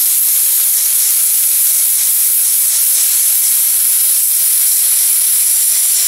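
A nitrogen plastic welding station blows a continuous hot-gas hiss while welding a plastic bumper, a loud, steady, close rush of air with no pauses throughout.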